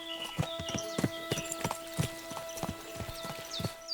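Horse hooves clip-clopping in the video game Kingdom Come: Deliverance II, a steady walking rhythm of crisp hoof strikes over a faint tonal background.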